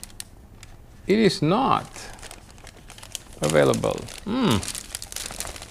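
A plastic bag crinkles and rustles in scattered bursts as someone rummages through it nearby, with someone speaking in between the crackling handfuls.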